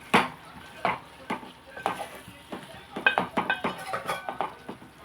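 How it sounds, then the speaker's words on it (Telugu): A spoon stirs brinjal and green chilli curry in a pot with gentle sizzling, followed by a lid set on top. Distinct scraping strokes and metallic clinks come close and fairly quiet. "దీన్ని ఇలా కలిపేసి ఒకసారి మనం మూత పెట్టుకుందాం"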